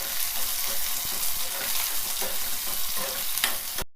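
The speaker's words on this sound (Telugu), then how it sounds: "ఉల్లిపాయ పచ్చిమిర్చి వేసుకొని మంచిగా ఈ ఉల్లిపాయలు ఎర్రగా వేయించుకోవాలి" Onions and green chillies fry in hot oil with a dense, close sizzle broken by scraping stirs of a spatula, continuous and fairly loud with no talking.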